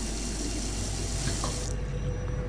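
Steady water pouring from a faucet in the sci-fi game Prey, a constant hissing rush that holds loud and even before its bright top end drops away near the end.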